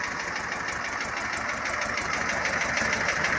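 A motor with a new Chinese-made muffler idles steadily up close, a rough, even rumble with a rapid rhythmic pulse and a hissy exhaust edge, no voices.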